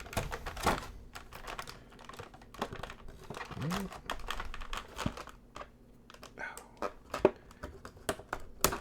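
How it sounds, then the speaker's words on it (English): Scissors snip and crunch through plastic toy packaging for a McFarlane Toys Warhammer 40k Blood Angels Hellblaster figure, a run of close, irregular clicks and crinkles, with a brief voice partway through. "These are also not the best scissors in the world"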